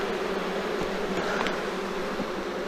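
Honey bees buzzing steadily inside an open hive during an inspection, a dense continuous drone, close and constant with no speech.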